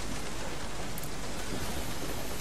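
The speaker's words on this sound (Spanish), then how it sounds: "Encima está lloviendo, tío." Rain in the horror game Resident Evil 7, a dense, even wash of falling water that stays constant and fairly quiet throughout.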